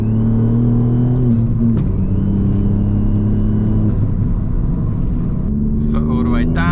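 A stage 2 tuned Ford Fiesta ST MK8 accelerates hard at full throttle, its engine note climbing steadily from inside the cabin, with a shift break partway through and excited voices talking over it.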